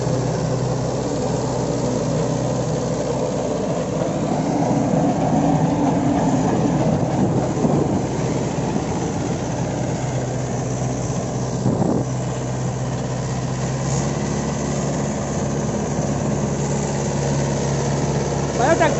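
A Mahindra 575 XP Plus tractor pulls a 7-foot rotavator through a field, its engine droning steadily under load with a rattling, clattering mechanical undertone throughout, while someone talks over it at times.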